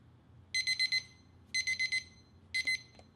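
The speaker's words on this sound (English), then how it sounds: "I'm now going to demonstrate the TP20's countdown alarm function." A ThermoPro TP20 meat thermometer's countdown alarm goes off with three bursts of rapid high-pitched beeps, four quick beeps per burst, close and clear against quiet background.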